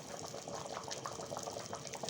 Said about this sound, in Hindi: हम लोगों ने चावल डाल दिए हैं और उबाल आप चेक करें